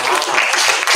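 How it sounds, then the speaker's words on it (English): A student association election dialogue audience giving a short round of applause, a quick dense patter of clapping lasting about a second, close and fairly loud. "Please give her a round of applause."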